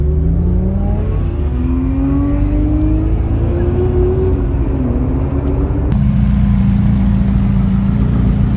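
A car engine revs loudly, pitch climbing and falling through several pulls, then settles into a lower steady roar, close and continuous.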